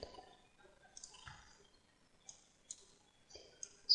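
A computer mouse clicks in 3D modelling software as a Minecraft villager model is edited, giving sparse, crisp, close clicks at irregular intervals over near silence.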